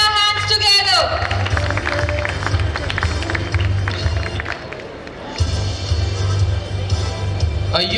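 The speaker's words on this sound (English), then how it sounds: "Come on everybody, let's put our hands together." An annual function audience applauds the class 10th and 12th subject toppers, a loud, steady wash of clapping and crowd noise with background music and chatter running beneath.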